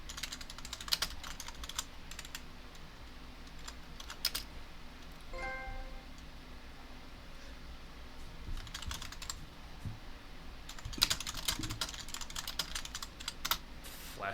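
Keys clatter on a computer keyboard in quick, irregular bursts with short pauses between them, close and moderately loud, with no voices.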